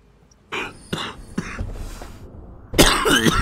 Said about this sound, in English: No, I'm just coughing the lungs out.